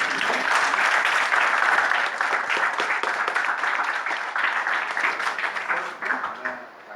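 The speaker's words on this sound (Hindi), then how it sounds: "आप लोग अपने लिए ताली बजाइए" Audience applause at a school Hindi Diwas celebration: a crowd clapping steadily and loudly for the full stretch, a dense, even roar of hands that tapers only slightly near the end.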